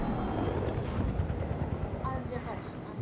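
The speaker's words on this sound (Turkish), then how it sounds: "o bizim helikopter mi? Yok, bizim helikopter de düşman." Helicopter in the Fortnite video game, a continuous low rotor drone with a steady churning texture, heard under game noise and talk from players.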